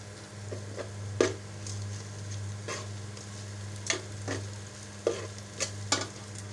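Whole garam masala spices frying in a pan under a steady low hum, with faint sizzling and occasional sharp clicks and scrapes of stirring.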